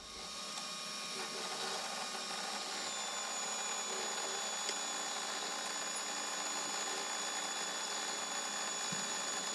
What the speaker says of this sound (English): I'm going to put the boring head in there and take one cut